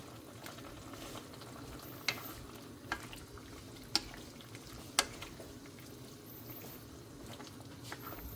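Pork kinamatisan simmering in a pot, soft bubbling and gentle stirring with a few sharp clinks of a utensil against the pot, quiet and close.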